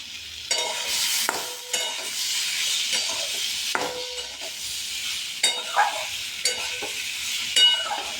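A potato and paneer curry frying in a pan is stirred steadily, with repeated scraping strokes over a continuous sizzle. The cooking is close and moderately loud, and no one speaks.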